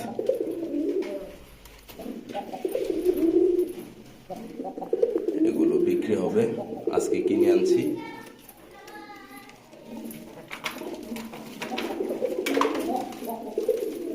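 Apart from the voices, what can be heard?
deshi and prince pigeons cooing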